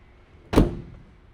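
A car door on a rare BMW race car gives a single solid thunk, close and fairly loud, then a short fading tail in a quiet space.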